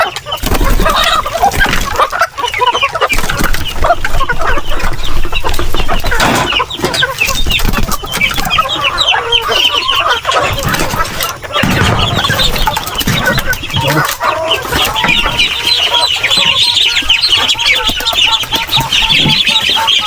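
Native chickens on a farm cluck and crow in a dense, continuous chorus, loud and close, with a rooster's calls rising over steady background noise for the whole stretch.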